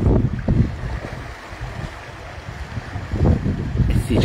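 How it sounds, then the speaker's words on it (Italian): Sea waves along the Sicilian coast, with surging swells washing in and out under steady wind buffeting the microphone, rising and falling in loud, broad rushes. "Questo è il mare siciliano."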